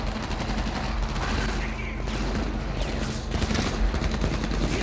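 Sustained gunfire in the shooter game Homefront, steady and loud through the whole stretch, with bursts layered over a dense game soundscape.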